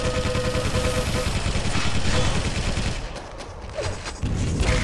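Rapid gunfire bursts from a Quake 3 Arena match, dense overlapping shots and thuds filling the mix at steady loudness, with a brief dip before the firing resumes.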